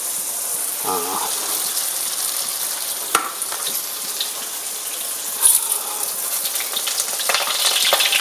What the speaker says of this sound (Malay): Saya akan masukkan pada minyak yang telah panas. Kita goreng dia seperti goreng kerupuk.